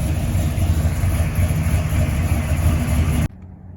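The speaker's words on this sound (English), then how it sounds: "hearing a motor like that doesn't get you going, because that just sounds so good in a big truck like this" A 1969 Chevrolet K20 truck's big engine runs with a steady, loud low rumble throughout, then cuts off abruptly near the end, leaving quiet.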